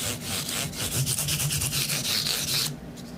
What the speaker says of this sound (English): You need to go through a few grits of sandpaper first to get rid of the scratches.